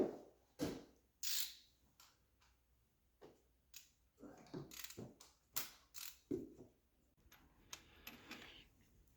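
A ratchet working spark plugs out of a twin-turbo C6 Corvette Z06 engine, with sharp clicking bursts and clunks in short irregular runs, close by and separated by quiet pauses.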